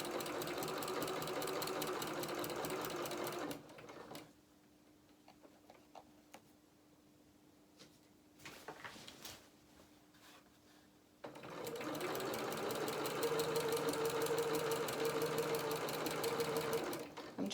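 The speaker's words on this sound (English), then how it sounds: "I'm just making sure that as I sew this, these stripes are on top of each other" A sewing machine stitches the hem of a lined, striped curtain, running in a fast, even rattle that stops for several seconds of near quiet before starting up again, close and prominent.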